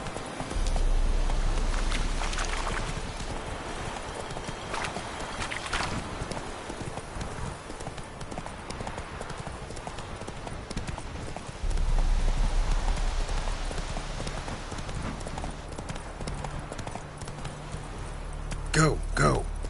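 Horse hooves clip-clopping at a gallop in The Witcher 3, a steady rhythmic drumming of hooves on ground that carries through nearly the whole stretch, loud and close, with a brief break and a few sharper knocks near the end.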